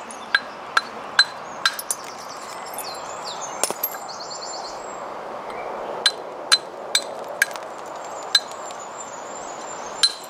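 Sharp, glassy clicks of a hammer stone striking flint ring out at irregular intervals, some in quick pairs, against a quiet steady background hiss.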